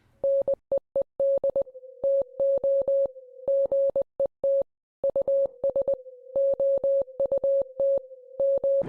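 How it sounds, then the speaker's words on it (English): Rapid electronic beeps of Morse code in a Minecraft setting, a steady mid-pitched tone broken into quick short and long pulses in irregular groups, loud and clean with no talk. "And then Morse code plays."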